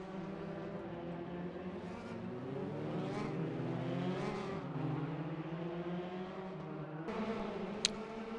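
Race cars in the RaceRoom sim race the Praga Cup start, several engines revving and sweeping past in overlapping waves, a short sharp clank near the end, all under steady engine roar.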